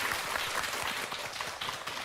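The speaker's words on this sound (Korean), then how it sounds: "큰 박수 보내주시기 바랍니다" Studio audience applause on a Korean morning talk show, a dense patter of many hands clapping at once, steady and moderately loud throughout.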